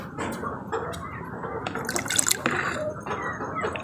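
Fresh water is poured and drips into a container at night outdoors, close splashes and trickles with uneven bursts, no voices over it.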